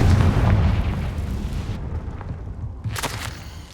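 The Confringo blasting spell in Hogwarts Legacy goes off as a loud, deep explosion that rumbles and fades over a couple of seconds, followed by a softer second burst near the end.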